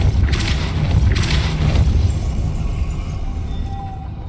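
A Depulso force spell cast in the video game Hogwarts Legacy, a loud booming blast with a couple of sharp whooshing bursts early on, then a rumbling low tail that slowly fades.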